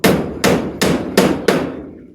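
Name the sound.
hammering nails while roofing a house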